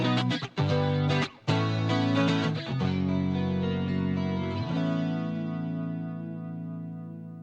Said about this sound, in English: So this is kind of a clean chorus kind of sound.